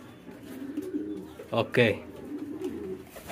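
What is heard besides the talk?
Lakkha fantail pigeons cooing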